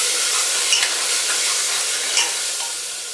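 Turmeric, coriander, chili and cumin powders are stirred into a masala in a pan for a rajma curry, making a loud continuous sizzle with a couple of soft scraping strokes, no voices present.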